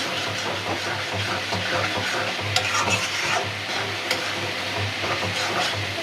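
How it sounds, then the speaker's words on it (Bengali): Shrimp frying with ground spice paste of cumin and chili plus ginger and garlic, a steady close sizzle with stirring scrapes and a low hum running through, no talk. "এই দেখেন সুন্দর করে ভাজা ভাজা করি"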